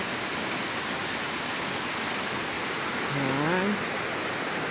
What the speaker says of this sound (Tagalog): Ito yung sa Batlag Waterfalls naman.